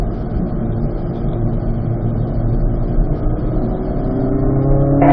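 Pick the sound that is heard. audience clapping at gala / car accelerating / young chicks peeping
car accelerating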